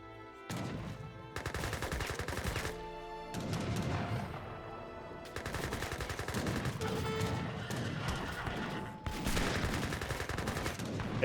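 Gatling guns firing in the video game Age of Empires 3, dense rapid volleys of battle gunfire in several long bursts at moderate distance, mixed with clashing and impact sounds.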